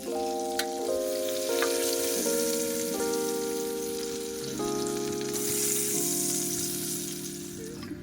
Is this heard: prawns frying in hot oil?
yes